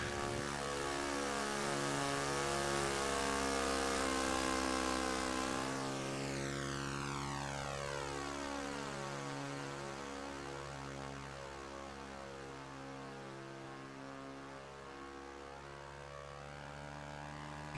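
Droning twin propeller engines of a B-25 Mitchell bomber in an RC flight simulator game, a steady harmonic hum whose pitch bends and shifts as the plane flies past slowly, continuous with no voices.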